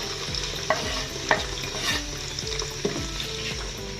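Chopped onion frying in hot oil for aloo matar, a steady sizzle with the repeated scrape and clatter of stirring close up, with no talking.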